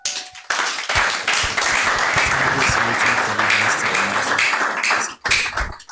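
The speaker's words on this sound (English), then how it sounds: "Another round of applause for Dr. Adegbenro Ajani" A hall full of audience members claps loudly and steadily for a speaker at a motivational event, a dense wash of hands that fades out near the end, with no speech over it.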